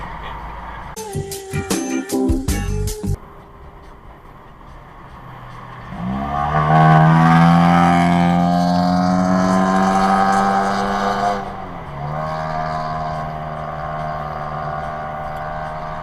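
A loud car engine with loud mufflers revs up hard and holds a roaring, rising tone for several seconds, then drops back to a steady rumble, after a brief rattling burst.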